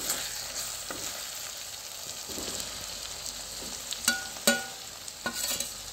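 Potatoes frying with chili powder in a pan, a steady sizzle broken near the end by a few sharp scrapes and clatters of stirring.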